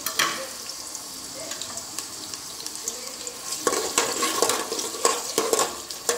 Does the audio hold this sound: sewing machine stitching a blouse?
no